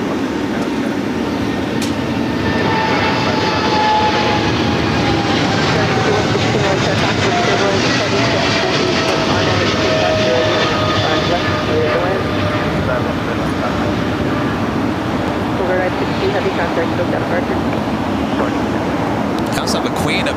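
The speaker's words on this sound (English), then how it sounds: "I got that Southern Air Polar Cargo 777 freighter heading to Cincinnati, now about to take off" A Southern Air Polar Cargo Boeing 777 freighter taking off from runway 25L at LAX, a loud, continuous low roar and rumble that holds steady throughout, with a voice occasionally heard over it.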